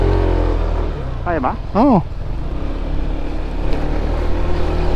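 A motorcycle engine runs steadily with a low rumble while climbing a slippery uphill path toward a viewdeck in Ambaguio, Nueva Vizcaya, as people speak briefly over it.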